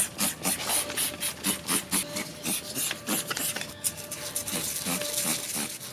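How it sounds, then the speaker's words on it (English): A Skunk2 camber kit for a 1995 Acura Integra GSR being scrubbed clean: rapid, rhythmic brushing strokes close up, steady and fairly loud with no speech. "Now I'm just gonna clean up the Skunk 2 camber kit,"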